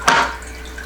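Water splashing onto the substrate of a begonia plant, one brief close pour that fades quickly.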